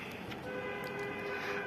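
An acid train in a video game obby rumbles past with a sustained horn-like tone over a steady, fairly faint mechanical drone.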